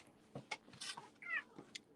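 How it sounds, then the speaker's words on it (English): Indoor house cat giving several short, sassy meows and chirps in quick succession, close to the microphone, with small handling noises between them and no talk. "Y'all hear that sass from my cat?"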